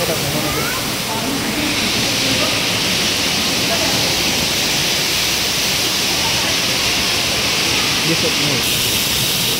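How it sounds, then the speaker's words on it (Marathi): Large waterfall in heavy monsoon rain at a temple site, a loud, unbroken wash of rushing water filling the whole clip, with a few brief spoken words over it. "कसं वाटतं वॉटरफॉल वरून पाहू शकता आपण, पण मी तुम्हाला खालच्या बाजूने पण दाखवणार."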